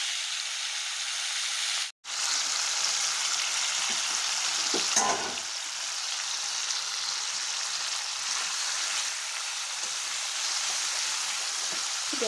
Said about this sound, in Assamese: প্ৰথমতে মই মাংসখিনি ভাজি ল'ম, সেইটো কাৰণে তেলত নিমখটো দি দিছোঁ